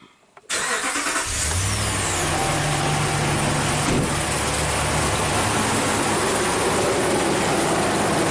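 A Ram truck with a HEMI engine is being checked for a cam timing fault. After a brief quiet moment it cranks and fires up, then settles into a loud, steady idle close by, with no voices over it.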